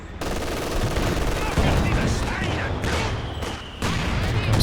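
Machine gun fire in the video game Company of Heroes 2 during a 2v2 match, dense rattling bursts with explosions mixed in, continuous and loud throughout.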